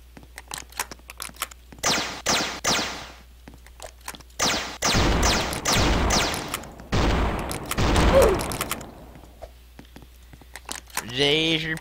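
Laser pistol fire in the Roblox game Avert the Odds 2: several loud bursts of rapid, crackling shots, separated by short pauses, with quieter game noise between them.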